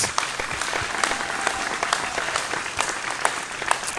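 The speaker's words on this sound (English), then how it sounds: "please give them another big round of applause" A television singing-competition audience applauds its top six singers, dense steady clapping from a crowd in a venue that runs throughout at a fairly loud level with no one talking over it.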